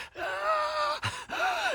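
A man gasps and groans, drawing two long, strained breaths separated by a brief pause, each rising and falling in pitch, close and clear with no other sound.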